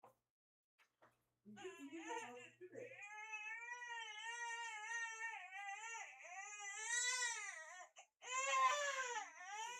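A baby girl cries indoors in long, wavering wails that rise and fall, with a few short sobs before steady crying and a louder burst at the end; no talking over it.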